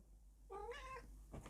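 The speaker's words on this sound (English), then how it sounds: "The cat's coming." A cat gives a single clear, drawn-out meow, close and fairly quiet, followed by a short rustle.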